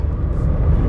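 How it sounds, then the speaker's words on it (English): Inside a moving car, a low, steady road-and-engine rumble that fills the short moment, close and fairly loud with no voices. "Driving in the car."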